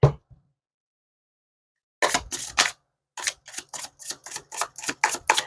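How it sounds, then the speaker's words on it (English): A deck of cards is shuffled by hand during a card reading. After a brief tap and a pause come a few quick riffles, then a steady run of crisp, evenly spaced snaps, close and clear with no talk. "I try to get it shuffling a little quicker these days for you all"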